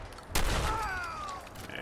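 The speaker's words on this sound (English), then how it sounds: "Ooh, big explosion." An explosion in the video game Fallout 4 goes off as a sudden loud blast with a rumbling low tail, followed by a thin whistling, descending tone and lingering background noise.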